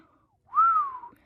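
A woman gives one short whistle that swoops up and then eases down. The note is clear and close, with silence around it.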